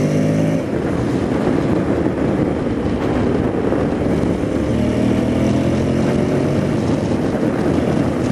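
A Honda X-ADV 750 motorcycle accelerates hard in second gear, its engine a steady loud drone with rising tones, with strong wind buffeting the microphone throughout.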